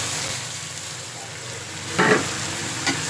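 Raw chicken pieces going into a hot pan for chicken jalfrezi, with a steady close sizzle of frying and a louder burst of hiss as the meat hits the oil, alone without talk.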